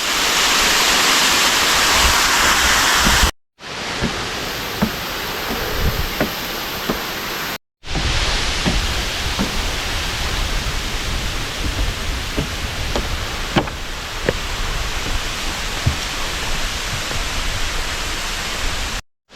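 Loud, steady rushing of a waterfall falling into a 100-foot-deep sinkhole in the Florida Panhandle fills the clip, a dense broadband roar with a couple of brief cuts.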